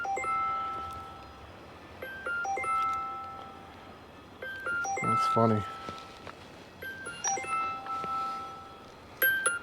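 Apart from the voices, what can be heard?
phone ringing with a bell tone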